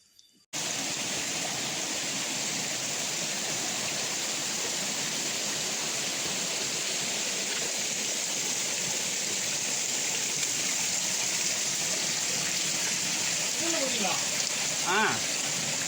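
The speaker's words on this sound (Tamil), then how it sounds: "மழை ஏறுது" Steady rain falling beside a river on a trip to find the river's water source, a dense continuous hiss of water that barely changes from start to finish, with a brief faint sound near the end.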